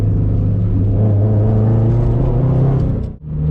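A straight-piped 2004 Subaru WRX STI drones loudly and close with a deep, raspy exhaust note that climbs slightly, cuts off sharply for a split second during a downshift, then picks back up.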